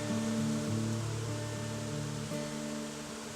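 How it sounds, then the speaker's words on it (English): A whole colony of bees swarms around a tree, giving a steady droning hum that wavers slightly in pitch, moderately loud and continuous with no voices. "We have up here just an entire colony of bees"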